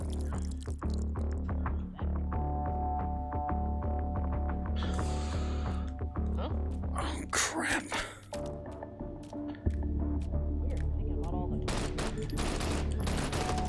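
Gunfire in the VR shooter Hot Dogs, Horseshoes & Hand Grenades: bursts of rapid shots and sharp cracks over a dense, noisy game backdrop, with scattered quick single shots toward the end.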